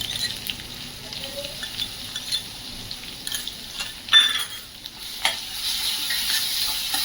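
Cumin, curry leaves and green chili paste fry in hot oil in a kadhai for dahi kadhi while being stirred, a soft crackling sizzle with occasional spoon scrapes and a louder clink, close and fairly quiet, no talk.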